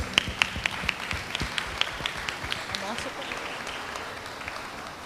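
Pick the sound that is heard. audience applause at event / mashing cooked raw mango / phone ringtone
audience applause at event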